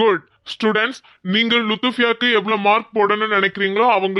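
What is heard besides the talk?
No distinct noise like a dog, phone or traffic.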